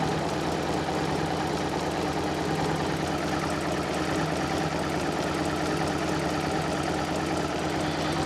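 A Fiat Panda 4x4 Sisley engine idles smoothly and steadily, a close, continuous low mechanical hum with a faint regular tick running unchanged throughout with no talking.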